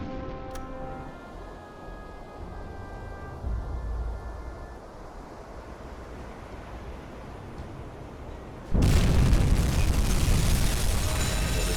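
A torpedo strikes a Liberty ship and explodes in a U-boat submarine game. A sudden, loud, booming blast erupts near the end, cutting through a steady low background rumble and continuing as a heavy roar.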